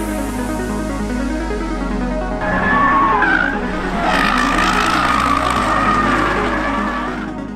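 Toyota Supra A90 (Mark V) driving hard with tires skidding and squealing in drawn-out bursts over a steady engine note, close and fairly loud, with no talk.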